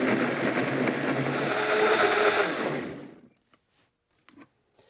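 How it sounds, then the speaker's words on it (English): A blender whirs loudly and steadily for about three seconds liquefying bean and tomato soup, then shuts off, leaving near silence with a few faint clicks. "I'm going to blend to liquefy."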